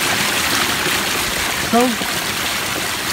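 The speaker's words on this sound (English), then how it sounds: "I can move one rock and create splash so that I keep a particular rock wet" Water splashes steadily over rocks in a backyard pondless waterfall, a constant broadband rush close to the microphone, with one brief spoken word partway through.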